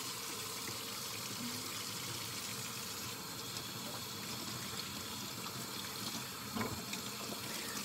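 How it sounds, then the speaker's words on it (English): Tap water runs steadily into a sink while someone washes their hands, a continuous mid-level rushing wash of water with a small splash near the end. "I'm gonna wash my hands real quick."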